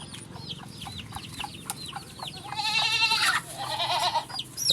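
Farm goats bleating close by, repeated short calls overlapping with chicken clucks and a rooster-like cry, with a louder burst of animal calls midway against steady outdoor background noise.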